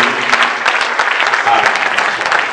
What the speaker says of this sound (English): Let's give Jesus a very big hand clap.